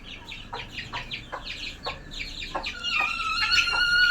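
Hens clucking in short, repeated calls close by, one brooding on eggs, with higher chirps from hatched chicks building toward the end.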